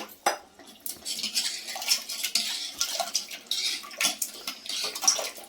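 A spoon stirs tamarind into Andhra-style fish curry in a metal pot, producing repeated clinking and scraping against the pot with wet sloshing, close and busy throughout.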